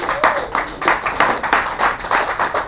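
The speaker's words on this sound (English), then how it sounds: "Give yourself a round of applause for being an audience on the Rotary Report." Scattered clapping from a studio audience on a Pittsburgh talk show, individual sharp claps forming a brisk, uneven rhythm at moderate loudness with no voices.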